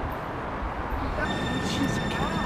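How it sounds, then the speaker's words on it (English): A low, steady rumble of a passing train with a faint high squeal from the wheels toward the end. "It's not our train, though."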